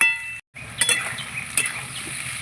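Potatoes, pointed gourd and onion fry together in an uncovered pan, giving a soft, steady sizzle with a brief silence near the start and occasional scraping stirs.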